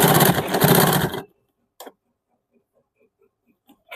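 A sewing machine stitches the neck strip onto a blouse in a single dense whirring run of about a second, followed by near silence with a few faint clicks.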